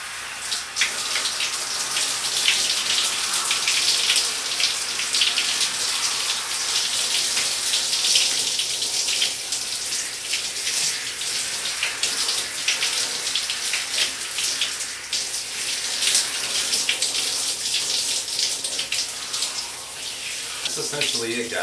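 Shower water runs steadily through hair as conditioner is brushed out, a continuous close hiss of spray and splashing that holds for the whole stretch without a break.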